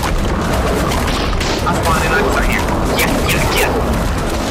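Gunshots in the ARK video game, heard as loud, dense bursts of firing and booming impacts mixed with the roaring chaos of a dinosaur fight, with people talking over them throughout.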